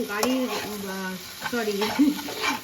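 Fresh broad beans and potatoes frying in a pan at home, with soft sizzling and repeated scraping stirring strokes in a quiet kitchen.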